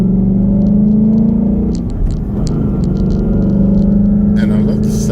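A 2017 Ford Mustang Mach 1 engine runs at a steady idle, a loud, close, continuous low rumble with brief light clicks and a faint rise near the end.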